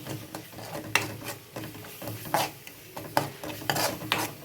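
Chili powder stirred and sautéed in a hot pan on the stove: quiet scraping strokes and soft sizzle, with clinks of a spoon against the pan recurring every half second or so.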